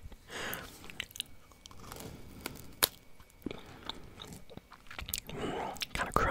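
Frosted Christmas cookies being bitten and chewed up close, a few crisp crunches and moist chewing spread across the moment, with quiet background sound between bites.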